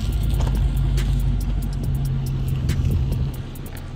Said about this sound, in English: You gotta give us a good burnout, man.